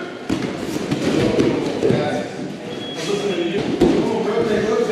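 Jiu-jitsu students shoot and drop to the mat together in a class, a series of dull thumps and thuds scattered across the group under a loud coach calling out.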